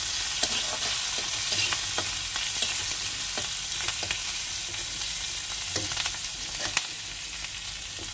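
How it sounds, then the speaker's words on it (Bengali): Green chilli and garlic fry in hot oil with a dense, continuous close sizzle, broken by scattered clicks of stirring against the pan. "একটু ভাজা হয়ে যাক"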